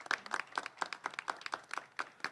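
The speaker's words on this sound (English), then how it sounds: "Let's give them all a round of applause." Sparse applause for committee members at a police department announcement, a handful of distinct, evenly spaced claps heard fairly close and quiet.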